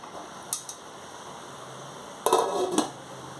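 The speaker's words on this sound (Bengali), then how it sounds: "ঢাকাটা দিয়ে দিলাম" A metal lid set down on a kadai of frying water spinach (kalmi shak), giving a few sharp clanks and rattles, one alone and a cluster of two close together, against a quiet kitchen background.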